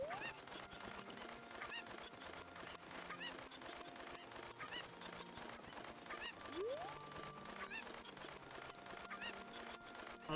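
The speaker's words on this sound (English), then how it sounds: "I definitely did not need a reminder of how fucking loud the chickens are." Chickens in a video game cluck and honk loudly and repeatedly over a steady ambient background with soft music tones.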